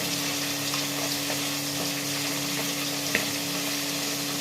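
Cumin seeds sizzling in hot oil: a steady, close frying hiss with faint crackles and one small pop, continuous throughout with no talking.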